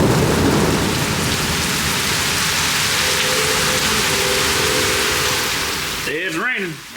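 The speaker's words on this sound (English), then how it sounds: "Because it's thunderstorming today." Heavy rain pours steadily during a thunderstorm, a dense close hiss of drops on surfaces with low rumbling underneath, easing slightly near the end as a brief handling noise cuts in.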